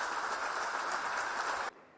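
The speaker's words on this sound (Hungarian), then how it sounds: "A kormány alakítót óriási taps fogadta." Loud, sustained applause from a crowd greeting Ana Brnabić in the Serbian parliament, dense steady clapping lasting nearly two seconds before cutting off abruptly into quiet.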